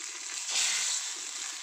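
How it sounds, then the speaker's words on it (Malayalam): Dried chillies and curry leaves hitting hot oil for a spinach pachadi, a close, hissing sizzle that swells halfway through, then settles into a steady crackle. "ഇപ്പം ഇതിൻ്റെ അകത്തേക്ക് വറുത്തിടും"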